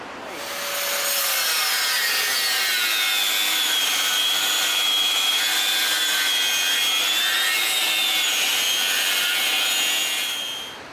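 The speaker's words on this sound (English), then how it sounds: "Let's put a grinding disc in it and see what noise it makes." A grinding disc screeches hard against thick steel in one sustained, loud cut that ramps up, holds for several seconds, then winds down.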